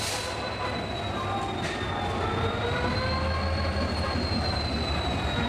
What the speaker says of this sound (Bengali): রাত 12টা 15 মিনিট নাগাদ ট্রেন ঢুকলো 19 নম্বর প্ল্যাটফর্মে